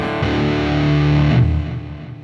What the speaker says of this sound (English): Put in a heavy soldano distortion, some delay, stereo delay, on tempo 170.